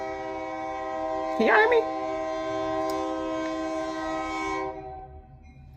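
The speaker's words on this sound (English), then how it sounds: "Sometimes this train gets stuck on these tracks." A train rolls past while its horn blows one long, loud, sustained blast over the rumble of the rails, then fades; someone speaks briefly over it.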